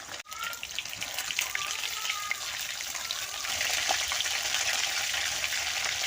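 Pomfret fish fries in hot oil with a dense, steady sizzle and scattered crackling pops, close and continuous, no voice over it.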